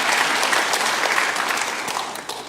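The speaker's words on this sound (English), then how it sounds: "Give her granddaughter a round of applause" Steady applause from a large church congregation, loud and sustained, fading slightly toward the end.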